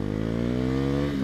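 A 2019 Husqvarna Vitpilen 401 motorcycle engine revs up, its buzzing single-cylinder drone rising steadily in pitch, loud and close throughout a brief acceleration.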